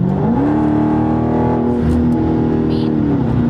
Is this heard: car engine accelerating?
yes